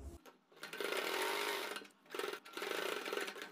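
Sewing machine stitching alongside a frill on a neck design, fast buzzing runs of needle motor in two bursts separated by a short pause, close and fairly quiet.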